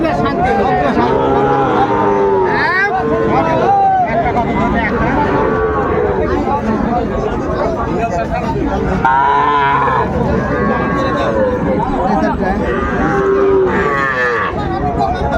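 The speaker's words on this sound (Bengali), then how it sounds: "ষাঁড় বাচ্চা" Young bull calves moo repeatedly at a busy cattle market in Chapainawabganj, loud close calls rising over a constant background of crowd chatter and nearby talking.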